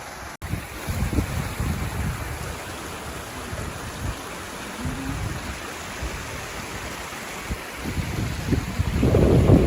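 Tiki waterfall seen on an outing, a broad steady rush of falling water with gusty wind buffeting the microphone, continuous and moderately close, no voices.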